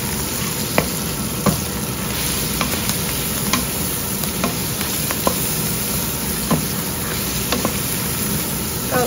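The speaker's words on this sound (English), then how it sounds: "Stir those in." Spices are stirred into a pot of lentil soup, making a loud, continuous sizzle up close, with occasional light taps and scrapes of the spoon.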